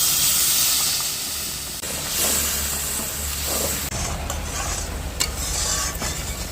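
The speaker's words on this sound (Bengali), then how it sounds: "এবার আমি জল দিয়ে দিচ্ছি।" Water poured into sizzling fried masala for a rohu fish kofta curry, a loud hissing steam burst over continuous bubbling and stirring, close up with no voices.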